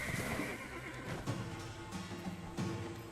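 A horse in a video game lets out a loud, clear whinny, with a few soft hoof clops in the background.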